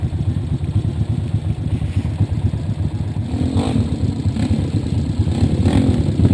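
A KTM motorcycle engine runs steadily with a low throbbing rumble and a few brief throttle swells, fairly close and loud, with no talk over it.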